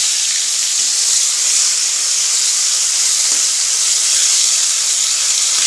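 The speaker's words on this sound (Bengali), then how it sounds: "এবার এই একই তেলে কড়াইতে আমি দিয়ে দেবো সজনে ডাঁটাগুলো" Drumstick (moringa) pieces hit hot oil in a wok, where bitter gourd was just fried, raising a loud, steady, close hiss of sizzling that holds unbroken throughout.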